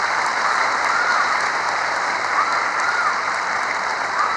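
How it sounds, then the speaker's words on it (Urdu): Sustained audience applause fills a political speech in support of Imran Khan, a dense, even wash of many hands clapping throughout with no voice above it. "تالیوں کی گونج آپ کو بتائے گی"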